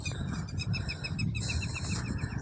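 Birds call and chirp near a farm field planted with maize and tomato, with repeated short high tweets over a steady low rumble of background noise.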